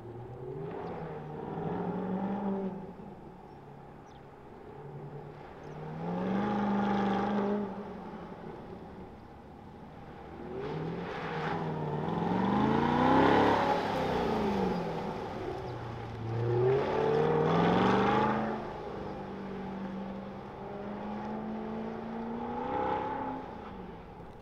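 Corvette engines rise and fall in repeated revving bursts, accelerating and easing off as the cars run an autocross course in Las Vegas, Nevada, heard at a moderate distance.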